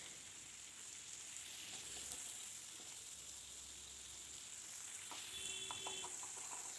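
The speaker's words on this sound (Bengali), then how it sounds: "সব চিংড়ি মাছগুলো কাটা হয়ে গেছে আর হালকা করে ভাজাও হয়ে গেছে।" Prawns lightly frying in a pan for a keora sour curry give a faint, steady sizzle with a few soft utensil clicks near the end.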